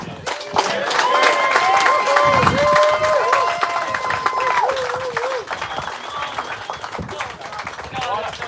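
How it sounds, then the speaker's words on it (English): Sustained crowd applause and clapping fills the room, with music and voices layered over it, staying loud throughout. "a big round of applause for Kim and"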